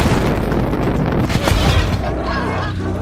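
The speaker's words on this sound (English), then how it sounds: "An explosion rips through the building." An explosion rips through a building in a thriller TV series, a loud dense roaring blast with rumbling debris that fills the whole moment and slowly thins out.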